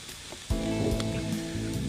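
Pork rib chops sear on a barbecue pit grill, giving a steady crackling sizzle that jumps up sharply about halfway in and then holds, fairly close, with no talk.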